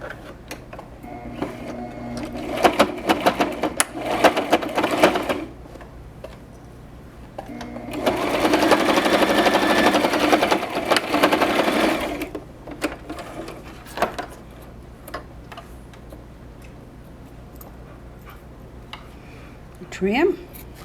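Sewing machine stitching a seam on a fabric bowl cozy, running in bursts of rapid mechanical whirring with a longer steady stretch in the middle and quieter handling noises between.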